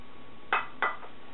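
Shrimp and couscous salad being mixed in a bowl, with two or three quick clinks and scrapes of a utensil against the dish, close up over a quiet background.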